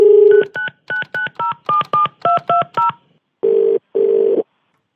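A rapid run of telephone keypad dialing tones, about a dozen short evenly spaced beeps, then two longer tones after a brief gap, loud and alone.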